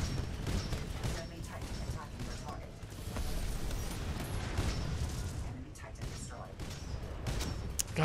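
Rapid gunfire from the video game Titanfall crackles steadily throughout, layered with mechanical game effects while someone talks over it.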